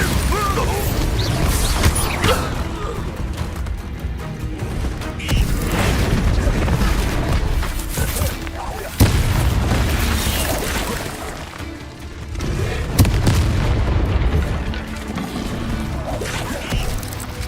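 A spell explosion in Hogwarts Legacy combat: loud booming bursts land amid a dense, continuous wash of clanking, creaking game effects, with heavy blasts near nine and thirteen seconds.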